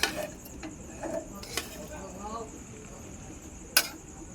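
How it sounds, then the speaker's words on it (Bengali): A spoon scrapes and clinks against a pan while fried rice is stirred with ghee, giving a few soft metallic taps and one sharp clang over a quiet sizzle; a voice is faintly present. "ঘি রেখেছি, ঘিগুলো দিয়ে দেবো উপর থেকে। এবার ভালোভাবে মিশিয়ে নেব।"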